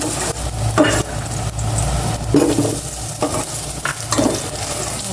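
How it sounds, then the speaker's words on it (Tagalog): Garlic and onion sauté in a hot pan with a steady close sizzle, while a utensil stirs and scrapes in repeated strokes. "Magigisa na po siya ng bawang. Isunod mo na yung sibuyas niya."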